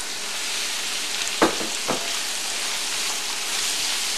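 Goat liver (kaleji) fries on a tawa-style pan with garlic for an Eid al-Adha dish, giving a steady, close sizzle throughout with two brief louder spits or stirs midway and no talking.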